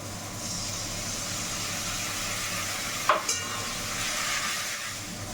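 Turmeric powder water poured into a hot frying pan of spiced minced meat, bringing a steady sizzling hiss with a sharp splash partway through, then continued bubbling sizzle.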